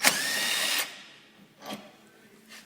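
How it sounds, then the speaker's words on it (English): A power tool spins a 13 mm socket to remove the bolt holding the kingpin to the leaf spring on a Club Car Precedent golf cart, with one sustained close whir followed by two short bursts. "Now with a 13 millimeter socket, remove the bolt that's holding the kingpin to the leaf spring."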